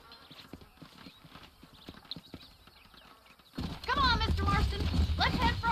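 Rhythmic horse hoofbeats clopping along steadily in the video game Red Dead Redemption, then a louder stretch where someone speaks over the continuing hooves.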